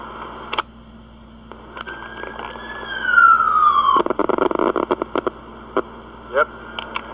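An emergency vehicle siren sweeps past on a road at night, a rising and falling wail over steady background hum, joined by bursts of clattering noise and brief sharp sounds.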